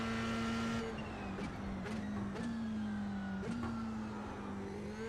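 A race car laps a track in a racing video game, its engine holding a steady loud drone with small pitch shifts and a few brief clicks as it shifts gears, with no voices.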